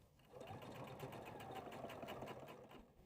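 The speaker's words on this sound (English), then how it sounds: "you can go ahead and step to your machine, sewing right on top of the line we just drew" A sewing machine stitches steadily along a drawn line on fabric, its fast even needle chatter running continuously at moderate volume for the whole stretch with no voices.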